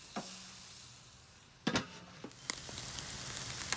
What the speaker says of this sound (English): Chicken's sizzling away just great.